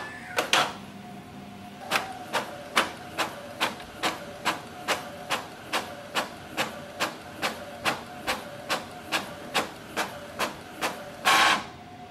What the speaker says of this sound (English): So that's the printing